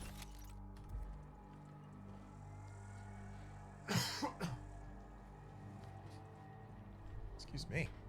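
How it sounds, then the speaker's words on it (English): Two short, harsh throat-clearing bursts close to the mic during play of The Outer Worlds, several seconds apart, over a low steady background hum. "Let's clear my throat a little."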